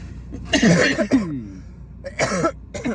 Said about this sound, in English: We got that cough